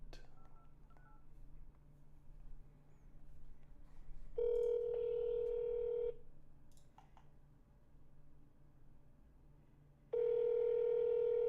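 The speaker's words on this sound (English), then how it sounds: "Let's see if we can actually get someone to answer the phone." Telephone keypad tones dialing a number, followed by a steady tone or ringback pulses on a call that reaches a disconnected line, with a soft room hum underneath and no talking.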